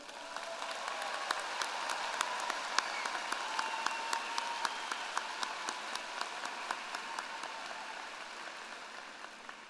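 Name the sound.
applause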